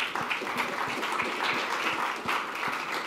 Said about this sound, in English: So please give a round of applause for João.